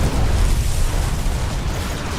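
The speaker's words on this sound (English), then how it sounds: "lots of missiles." Missile explosions in a video game shootout, a continuous loud rumbling blast that fills the whole moment, with no talking.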